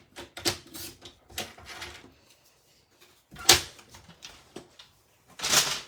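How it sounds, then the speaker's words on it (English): A paper trimmer slices through paper in a few short, crisp cutting strokes, with quieter handling rustles and gaps between them. "I'm going to get my trimmer. And I'm just going to cut off"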